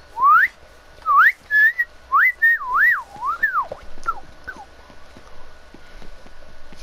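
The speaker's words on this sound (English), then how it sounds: "I can actually whistle in." A person whistles while breathing in, producing a string of clear, close, sliding tonal notes in short bursts that gradually get fainter and more broken toward the end.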